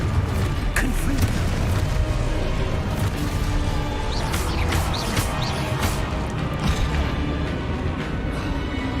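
A Confringo blasting spell exploding in the video game Hogwarts Legacy, loud booming bursts and crackling impacts amid constant combat noise, with voices shouting spell names over the fray.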